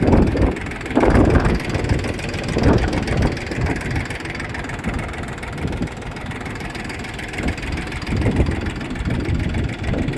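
A Kentavr 244SX mini tractor engine runs in a steady, loud low rumble close by, with a few heavier surges early on before it settles into an even chug.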